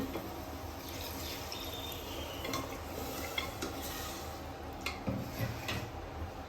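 Water poured into a pan of drumstick curry, a steady wet rush with a few light clinks of a spoon against the pot, no voices.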